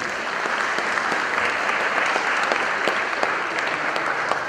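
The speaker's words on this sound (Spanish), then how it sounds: "Vamos a darle un fuerte aplauso" An audience at a university conference on sustainable entrepreneurship gives warm, sustained applause, a dense and even clatter of many hands at moderate loudness throughout.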